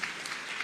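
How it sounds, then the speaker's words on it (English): Brief burst of applause from an audience at the Inua Biashara MSME Exhibition, KICC, Nairobi, a steady wash of clapping with no voices. "A round of applause will do."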